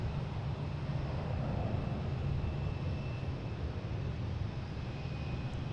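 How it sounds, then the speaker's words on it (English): An American Airlines jet takes off from Boston Logan International Airport, bound for Dallas-Fort Worth, as a steady, distant broadband roar that holds evenly and fairly faint throughout. "we have American Airlines taking off, heading to Dallas-Fort Worth"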